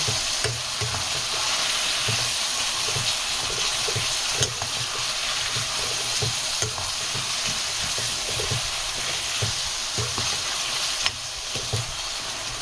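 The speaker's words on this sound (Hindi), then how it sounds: "अब इसको हम प्याज के पेस्ट के साथ और जिंजर गार्लिक का पेस्ट है उसको हम इसमें पका रहे हैं स्लो स्लो" Ginger garlic paste and onion paste fry in a pan under slow stirring, giving a loud, continuous sizzle broken by soft rhythmic scrapes and occasional sharper knocks of the spoon.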